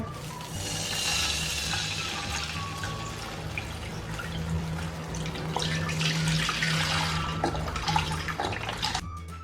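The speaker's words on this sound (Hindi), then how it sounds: "ये हम दूध डाल देंगे" Milk poured into a pan while making sheer khurma, a continuous liquid pouring and splashing that runs steadily for several seconds under a low background hum, no speech.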